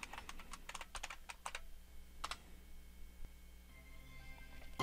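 Keys on a computer keyboard are tapped in short irregular bursts while a password is typed, close and quiet against a faint hum.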